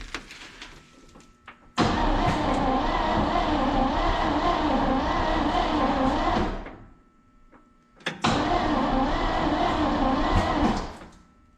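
A 1959 Chevrolet Bel Air engine, unstarted for 20 years, cranks and fires in two loud, rough bursts of several seconds each, separated by a short pause, with a low rumbling exhaust close by.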